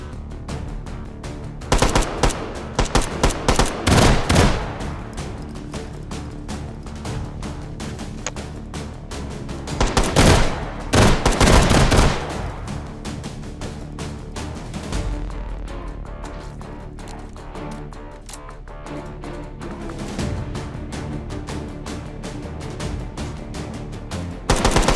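Rapid automatic gunfire from a gun in the virtual-reality shooter H3VR, bursts of fast cracking shots in clusters separated by brief pauses, loud and close, with no talking.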